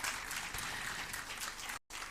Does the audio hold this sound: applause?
yes